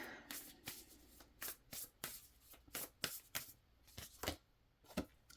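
Tarot cards being shuffled by hand, a run of quick riffling bursts and soft slaps in an uneven rhythm, close and fairly quiet with no voice over them.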